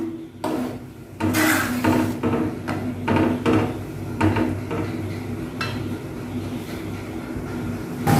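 A ladle stirs okra tamarind curry (vendakkai puli kulambu) in a cooking pot, giving repeated close metallic scrapes and clanks in an irregular rhythm over a low kitchen background, with no talking.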